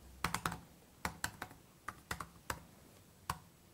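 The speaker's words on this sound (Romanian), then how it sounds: "Sunetul ăsta de tastatură tip fluture cea nouă mi se pare așa un pic zgomotos" Typing on the butterfly keyboard of a 2016 Apple MacBook Pro with Touch Bar makes a crisp run of clicky keystrokes, close and fairly quiet, in small irregular bursts with short pauses and no voices.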